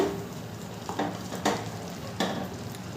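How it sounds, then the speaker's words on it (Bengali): Pineapple chutney cooking in a pan is stirred, giving a low bubbling sizzle broken by a few distinct scraping strokes of the spoon, close and moderately quiet. "আনারসটা একটু নেড়ে দেবো।"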